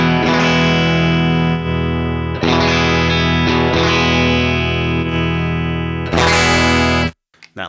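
Guitar through a UA Enigmatic Dumble-style amp pedal on its raw external output with no cab simulation, giving harsh, fizzy distorted chords, struck several times and ringing loud before cutting off abruptly.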